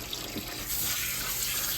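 Water runs steadily from a kitchen tap while it heats during meatloaf preparation, making a continuous close rushing splash with no pauses.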